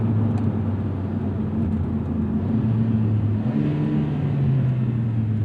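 A 2024 Lotus Emira Turbo with an AMG four-cylinder engine and 8-speed dual-clutch gearbox accelerates, a steady close-up engine drone whose pitch climbs and shifts midway, with no talking.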